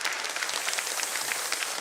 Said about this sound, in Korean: 우리 어르신들을 위해서 박수 한번 부탁드리겠습니다